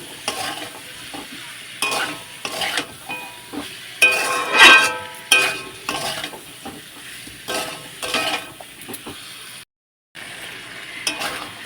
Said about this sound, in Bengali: এখন কিন্তু আমি ভালোভাবে মশলাগুলো দিয়ে মাংসটা কষে নেব